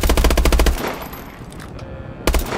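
Rapid automatic gunfire in Call of Duty: Advanced Warfare, a loud close burst of machine-gun shots, a short pause with game ambience, then another burst starting.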